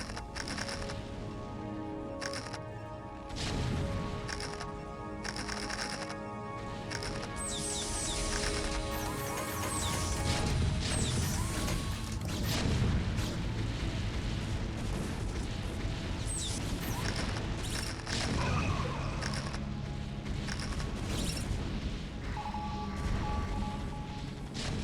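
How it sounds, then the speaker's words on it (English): Siege tanks pound Protoss buildings in StarCraft: Brood War, a dense, loud run of explosions, crashes and heavy artillery blasts layered over game music and effects. "It always feels nice to destroy Protoss buildings with siege tanks."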